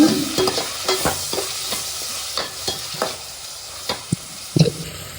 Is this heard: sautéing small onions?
yes